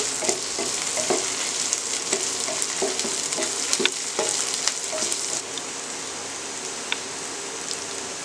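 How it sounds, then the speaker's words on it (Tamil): Green gram frying in a pan as it is stirred, a steady close sizzle broken by frequent scraping strokes and small pops, running on alone without any talk. "அடுத்து எடுத்து வச்சுருக்க பாசி பயிரையும் போட்டு வதக்க போகிறேன் அடி பிடிக்காமல் நல்லா கிளறிட்டே இருக்கணும்"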